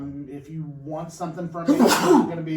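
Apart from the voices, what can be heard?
sneeze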